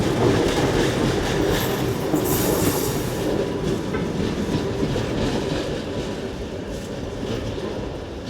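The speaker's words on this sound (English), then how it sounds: "Z26500 double-deck units owned by Monaco for services between Grasse, Cannes, Nice, Monaco and Ventimiglia" A Z26500 double-deck electric train, set 439 in special livery and owned by Monaco for the Grasse–Cannes–Nice–Monaco–Ventimiglia service, rolls past close by with a loud rumble and wheel clatter that slowly eases off.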